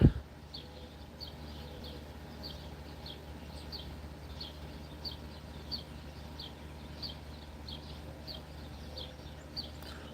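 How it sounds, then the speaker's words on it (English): Small birds chirp outdoors in quick, faint, distant repeated calls over a low steady background rumble, with a brief knock at the very start. "you can hear all the birds chirping"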